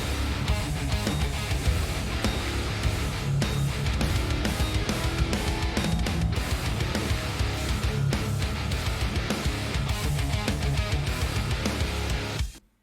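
Reamped heavy metal guitars in a dense mix through a 6505 amp, a loud, continuous wall of distorted chugging riffs with driving drums, cutting off abruptly at the end.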